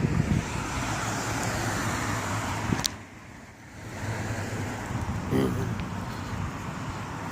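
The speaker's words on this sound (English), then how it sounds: "Figures there'd be a lot of traffic out here while we're doing this" Road traffic in a small Missouri town: a steady roar of passing cars close by, easing briefly before another vehicle swells past, with a voice talking over it.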